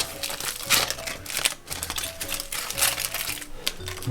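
Aluminium foil crinkling and crackling as it is peeled off a cooked, apple-wrapped pork joint, with loud, close, continuous rustling bursts and no speech.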